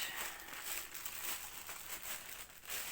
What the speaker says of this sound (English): I've just started cutting the bag. Comes in your standard plastic bag